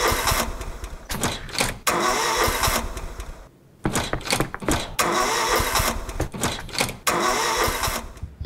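Stage sound effect of a time machine engine failing to start, loud repeated cranking bursts that sputter and cut out, with a brief silence midway before the cranking resumes.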